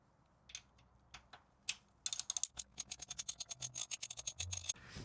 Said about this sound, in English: So I am going to loosen that up with my wrench.